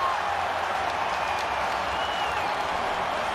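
A huge stadium crowd in Phoenix roars for a goal by Herrera at the 2016 Copa America match between Mexico and Uruguay, a dense, steady, far-reaching wall of cheering that continues with no break.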